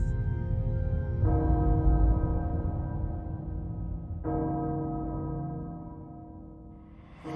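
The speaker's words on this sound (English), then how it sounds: "Castle Bell heralds danger." Castle bell in the video game Resident Evil Village, tolling in two heavy strikes a few seconds apart, each leaving a long, deep ringing decay with no talk over it.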